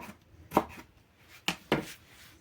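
A kitchen knife slices a bell pepper into thin strips on a board, with three crisp, separate chops spread over a couple of seconds and quiet pauses between them.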